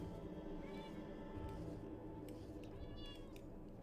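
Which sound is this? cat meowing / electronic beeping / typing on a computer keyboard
cat meowing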